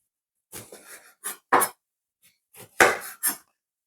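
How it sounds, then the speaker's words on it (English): Close, irregular tearing and rustling bursts as orange peel is pulled away, several short scrapes separated by pauses. "We're just going to remove the skin of the orange."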